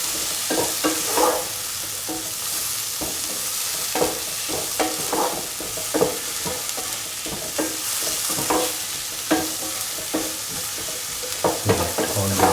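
Green chillies and spices being stirred through a stew of black-eyed beans and capsicum in a pan, with steady scraping strokes over a continuous sizzle, close and fairly loud, with no talking.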